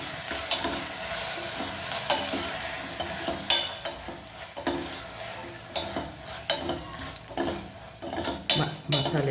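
Freshly ground masala for a green gram gravy sizzles in a pan, punctuated by repeated sharp scrapes and clinks of a spoon stirring against the metal.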